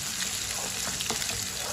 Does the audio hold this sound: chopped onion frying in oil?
yes